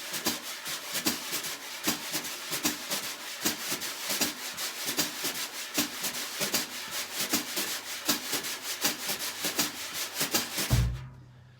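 Continuous scraping jazz brush strokes circle a snare drum without leaving the head, in a steady swinging rhythm, ending with a single low thump before quiet.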